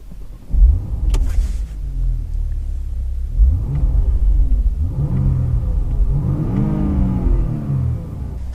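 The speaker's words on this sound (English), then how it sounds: "To start the car, you just have to twist the key here." A Porsche Panamera 4S V6 cranks with a short whir and catches with a loud rev flare, then settles into a deep, steady idle with a few smaller throttle blips, close to the car.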